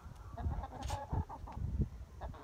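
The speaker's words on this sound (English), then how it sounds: "So these are my chickens." Backyard hens, including Rhode Island Reds, clucking softly nearby in short, irregular calls over a low outdoor background.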